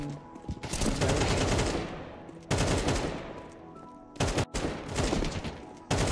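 Loud bursts of automatic gunfire and rapid shots from a Counter-Strike 2 match in an amateur tournament, several sustained volleys separated by brief gaps, close and dominant with no talk.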